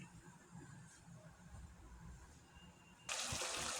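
Broth is poured into meat cooking in a pot: a low, soft bubbling simmer gives way near the end to an abrupt, loud hissing gush as the liquid hits the hot pan.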